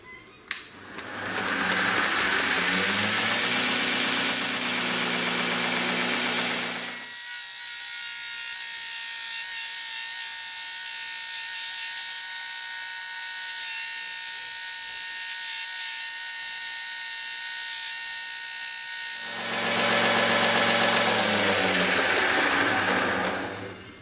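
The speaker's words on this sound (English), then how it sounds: "I'll move the grinder to another position" A grinder running on a workpiece being rough-shaped, loud whining buzz that eases into a quieter steady drone mid-clip and then returns to full intensity, no speech.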